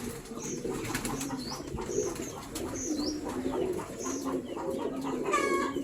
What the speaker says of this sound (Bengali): এই পাশে আরেকটা কবুতর দেখছি আমরা, সাদা, একই রকমের। এটা সাদা লক্ষা।